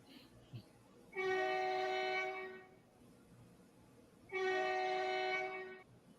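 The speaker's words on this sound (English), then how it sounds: "It has a horn sound that was used in Trains Simulator." Two long blasts of a train horn from the video game Trains Simulator, each about a second and a half, separated by a short pause, loud and chord-like against a quiet background.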